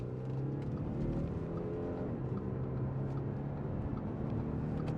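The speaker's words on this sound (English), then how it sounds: "that sounds pretty awesome for a diesel engine too" A 2013 Audi SQ5 3.0 BiTDI diesel with Tiptronic quattro accelerates, heard from inside the cabin as a steady, fairly quiet low engine drone with some road rumble.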